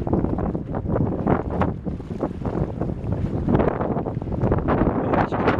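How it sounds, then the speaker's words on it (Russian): Waves splashing on the Neva river, heard as a steady, close wash of water that is loud and continuous, with strong wind buffeting the microphone throughout. "Плеск волны хочется записать"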